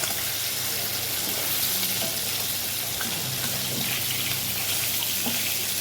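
Fish pieces fry in a pan with a dense, loud, continuous crackle and sizzle that stays even throughout, close to the listener and with no talking.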